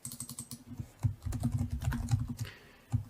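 Computer keyboard keys tapped in quick bursts of clicks with short pauses, close and fairly quiet, while entering text into a Power Apps property field; no voices.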